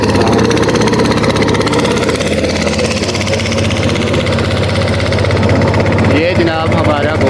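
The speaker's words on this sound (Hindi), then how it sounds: "अभी हमारे बोट के पायलट आ गए हैं। और बोट स्टार्ट हो गई है।" A boat engine starts up and runs steadily on Mahodand Lake, a loud continuous mid-pitched drone with a strong vibrating rumble that fills the whole stretch, with people talking over it.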